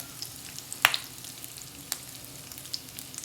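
Potato tacos fry crisp in hot oil, a faint steady sizzle with a few sharp pops and crackles, the loudest coming early and another near the two-second mark.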